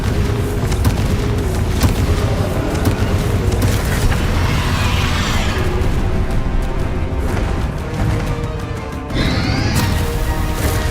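A Confringo fire spell explodes in the Hogwarts Legacy video game, heard as a loud, continuous, rumbling boom-and-crash barrage of blasts with a brief dip and whooshing swell near the end.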